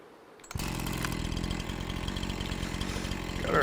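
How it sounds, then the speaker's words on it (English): A Johnson Red chainsaw in Farming Simulator 25 starts up after a short quiet moment, then runs with a loud, steady buzzing drone that rises slightly near the end. "Got our Johnson Red chainsaw here."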